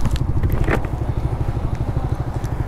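Yamaha R15 v3 motorcycle engine during a drag race, a close, rapid pulsing putter at idle with some scraping and crackle, steady and moderately loud for a few seconds.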